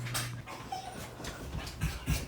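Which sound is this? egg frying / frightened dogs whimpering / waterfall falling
frightened dogs whimpering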